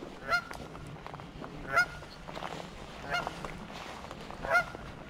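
Geese honk beside a Tennessee creek, four loud, separate honks spaced a second or more apart, fairly close, over a background of rushing water.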